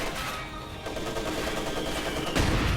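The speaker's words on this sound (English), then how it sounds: "Mortars being fired." Mortars and gunfire in a World War II strategy video game with Soviet forces, a dense continuous barrage of thumps and cracks, growing louder near the end.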